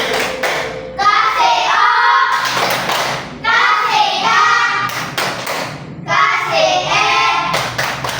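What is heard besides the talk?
hands clapping in rhythm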